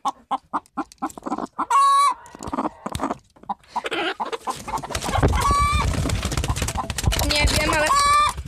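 Chickens on a poultry farm cluck in short rhythmic bursts, then give drawn-out squawking calls that rise above a busy, noisy coop background.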